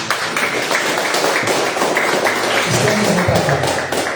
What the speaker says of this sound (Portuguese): Uma salva de palmas, Jesus, que merece.